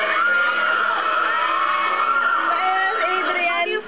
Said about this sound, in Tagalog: Napuno ng tilian at hiyawan ang buong lugar dahil sa grupo.